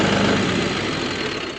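A tractor's engine runs steadily and loudly up close while its loader hydraulics operate, a constant rough mechanical drone with no gaps.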